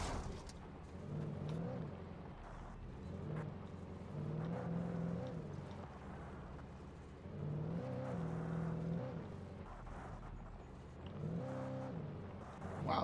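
A car drives in Alan Wake Remastered, its engine humming in repeated waves of revving and easing, steady and moderately loud with no talk over it.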